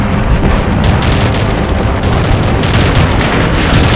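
Explosions and heavy gunfire in the video game Call of Duty MW3, with loud continuous booming and rattling bursts that fill a dense, saturated battle scene with no pause.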